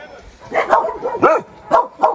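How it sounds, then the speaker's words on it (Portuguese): A ranch dog barks several times in short, sharp bursts, fairly close, with a person speaking around the barks. "Oh, que cão feroz."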